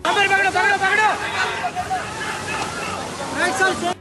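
Floodwater rushes and sloshes through residential colony streets after rain, a steady broad roar running throughout beneath crowd babble and a voice speaking over it.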